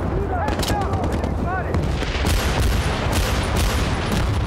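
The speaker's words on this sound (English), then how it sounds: "Oh, there are so many guys there shooting at me" Rifle and machine-gun fire from enemy soldiers in the Battlefield 1943 shooter game crackles in a dense, continuous barrage. Talk runs underneath throughout.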